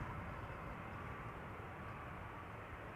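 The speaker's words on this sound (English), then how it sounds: "there's a 777-200 arriving from Guayaquil behind it" A Boeing 777-200 airliner on the glide slope arriving at Amsterdam Schiphol gives a steady, distant roar of jet engines that holds level with no break throughout.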